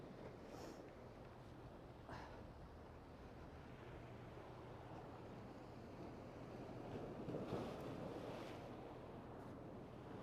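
Sea swell washing against rocks at night, a steady broadband wash with gentle surges, wind noise on the microphone, and a slightly stronger surge toward the end.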